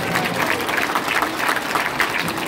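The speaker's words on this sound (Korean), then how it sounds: "우리 서미영 사모님께 감사의 박수를 보내주십니다" An audience gives a steady round of applause at a church-style political education meeting, dense even clapping that holds at a constant level for the whole stretch with no voices over it.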